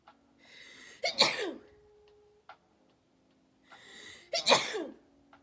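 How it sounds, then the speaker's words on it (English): Two loud sneezes, each preceded by a sharp inhale, spaced a few seconds apart with quiet in between. "I sneeze."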